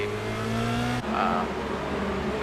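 Formula Renault open-wheel race cars in the iRacing simulator at Interlagos, one passing another under braking; a steady engine drone shifts pitch abruptly as the cars brake and slow.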